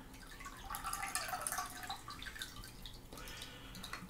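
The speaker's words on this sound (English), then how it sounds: "you take this off and you pour out the liquid" Liquid pours out of a Monster High potion water toy onto a desk, a close, steady trickle with splashy dripping that thins after about three seconds, no talking.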